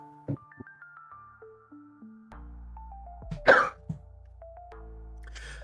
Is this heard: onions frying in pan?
no